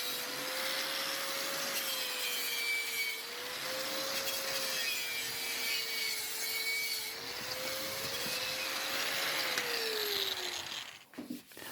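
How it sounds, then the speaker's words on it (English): Stuck spokes on a vintage Monark 1243 moped wheel are cut through with steady, continuous rasping strokes and a faint ringing tone above, ending in a few clanks. "All of the spokes were stuck, so I had to cut them all."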